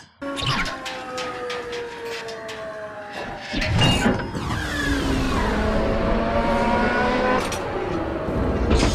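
Podracer engines from the Star Wars Episode I film The Phantom Menace zoom past, a loud, continuous high-pitched racing whine whose pitch sweeps up and down as the craft fly by, with no talking.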